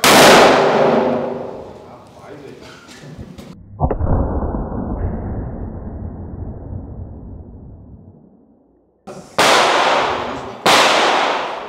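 Boar-hunting ammunition fired in a ballistic test at a junkyard: one sharp, loud report with a long rumbling decay, then two more abrupt, very loud blasts close together near the end.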